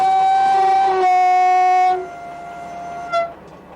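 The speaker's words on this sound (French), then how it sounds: "le fait de klaxonner, ça lui attire son attention et peut lui éviter de se faire écraser" A train's horn sounds loud and close in a long steady two-tone blast of about two seconds, then fades into rumbling rail noise with a brief faint toot near the end.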